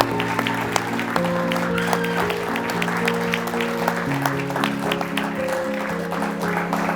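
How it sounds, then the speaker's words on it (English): Wedding guests at a reception give a round of applause, steady clapping running throughout over sustained musical tones in the background. "can we all give them a massive round of applause?"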